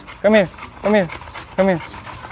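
An XL American Bully dog overheated after exertion, giving three loud, evenly spaced whining, harmonic breaths up close, each about a quarter second long, with soft noise between them.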